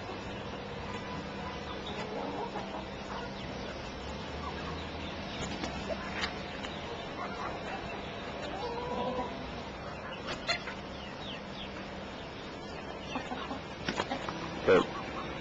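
A hen clucks softly and steadily over a constant background hiss, with a few sharper sounds and a brief louder peak near the end.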